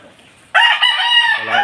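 A backyard rooster crows loudly and close by after a brief quiet moment, with the chickens pecking at feed around it.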